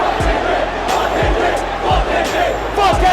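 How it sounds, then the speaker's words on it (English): Festival crowd at Drake's Wireless show in London chanting in unison, a dense roar of many voices with rhythmic shouted pulses repeating roughly every second, loud and continuous throughout. "Crowds chanting, "F Kendrick.""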